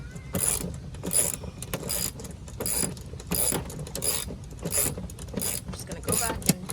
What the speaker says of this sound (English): We're using the 1/2-inch socket wrench and bolts just to tighten it together.